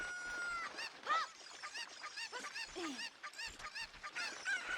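Chickens in Ocarina of Time 3D squawk and cluck in rapid, repeated close bursts, loud and alone without talk.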